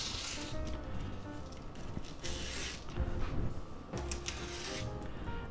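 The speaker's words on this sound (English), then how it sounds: "let's open up our package here" A plastic package of sausage links being opened by hand in a kitchen, heard as close crinkling, creaking and tearing rustles in uneven bursts, with a couple of sharper snaps.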